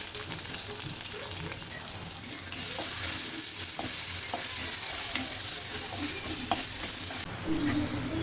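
Leafy greens stir-frying in a seasoned clay kadai give off a steady, close sizzle with scattered stirring clicks and scrapes throughout, and no voices.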